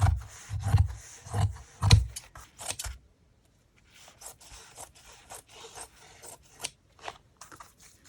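Scissors slice through two layers of curtain fabric at once, with several loud, crunchy close-up snips and then softer, scattered snipping and rustling, with no voice.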